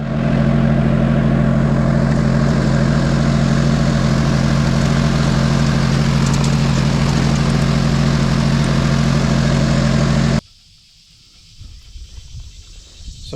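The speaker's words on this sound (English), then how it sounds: "So we have the Cub Cadet GX50 XT2 Enduro Series lawnmower tractor" A Cub Cadet GX50 XT2 Enduro Series lawn tractor engine runs at a steady, droning idle, loud and close with a strong low hum, then cuts off abruptly, leaving quiet outdoor ambience.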